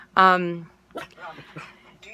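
A pet dog gives a sharp, loud whimpering yelp, then short, softer barks and whines follow in a restless, uneven burst at close range.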